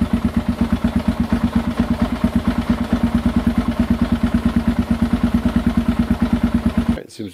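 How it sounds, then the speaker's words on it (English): A cold Kawasaki KLR650 single-cylinder motorcycle engine idles at very low RPM, a steady loping chug of evenly spaced pulses up close, cutting off abruptly near the end with some handling noise. "This is very low RPM, very cold bike."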